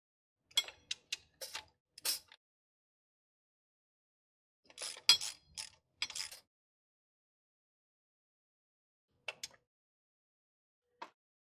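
Short metallic ratchet clicks come in a few brief bursts separated by silence as 12 mm bolts are tightened on the QR25 engine of a Nissan X-Trail during head gasket work.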